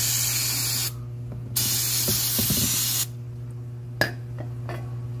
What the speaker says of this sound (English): Now we are going to hose it off with some brake clean.